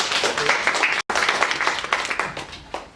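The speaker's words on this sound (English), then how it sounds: "Can we have a great round of applause for" An audience at a startup networking event gives a round of applause for about three seconds, a close, crackling spread of many hands clapping with a brief dropout early on and individual claps standing out toward the end.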